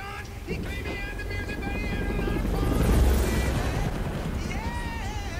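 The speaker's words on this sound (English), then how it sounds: "It's like the lowest poly helicopter I've ever seen." A low-poly helicopter in the video game Saints Row IV drones steadily with a loud rotor roar that swells toward the middle, mixed with game sound effects and a voice speaking over it.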